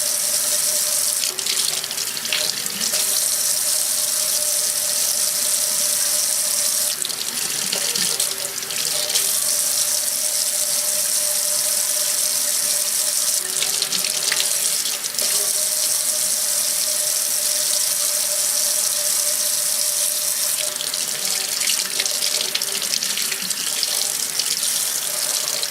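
A kitchen tap runs steadily into a sink while salmon is rinsed of salt before smoking, a loud, close, continuous rush of water with slight shifts in pitch.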